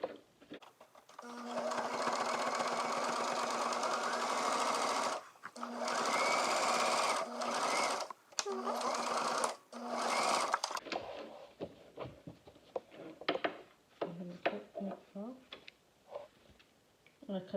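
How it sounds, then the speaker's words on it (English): A sewing machine stitches the side seam of a homemade fabric face mask in steady bursts of rapid motor whirring with brief pauses, then stops as a person begins talking. "you want to stitch this side over as well"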